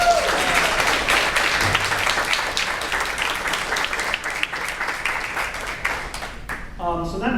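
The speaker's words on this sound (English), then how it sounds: "So I think they really deserve a round of applause." Audience applause at a book launch for a novel, a dense, steady wash of clapping from a room of people that holds for several seconds before tapering off, with a voice starting to speak again at the very end.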